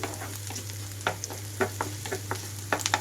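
Onions frying in a pan, with a soft continuous sizzle and a low hum underneath, plus scattered light stirring scrapes close by.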